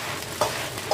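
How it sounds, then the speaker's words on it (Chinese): Pea shoots stir-frying in a wok over high heat with dried chillies and Sichuan peppercorns, a steady close sizzle with two brief louder scrapes of stirring. "再下入豌豆颠，继续用大火炒均匀"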